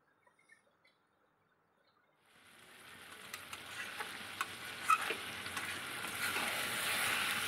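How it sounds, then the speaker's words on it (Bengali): Potatoes hit hot oil and spice paste for a Bengali chicken kosha and start to sizzle steadily after a quiet opening, with scattered stirring clicks and scrapes over the frying, growing louder toward the end. "আলুটা দিয়ে এবার কষিয়ে নেব।"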